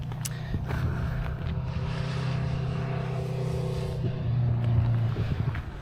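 A motorbike's steady engine drone hums past a farm campsite, holding an even low tone before growing slightly louder and closer near the end.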